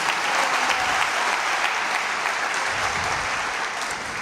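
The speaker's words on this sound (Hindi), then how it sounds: "जोरदार तालियां खुदा के जलाल के लिए।" A crowd at a church sermon applauds loudly and steadily, a dense wash of clapping hands that holds throughout with no speech.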